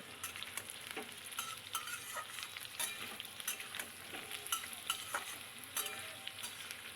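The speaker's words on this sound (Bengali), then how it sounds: "এবার একটু ভালো করে ভেজে নেব যাতে একটু লালচে লালচে ভাবটা হয় সেইভাবে ভেজে নেব" Potato and papaya pieces fry in a pan with a soft steady sizzle, broken by frequent scraping knocks of a spatula stirring them, close and fairly quiet with no talk.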